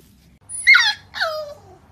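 A puppy whimpering close by, two short high whines in quick succession against a quiet room.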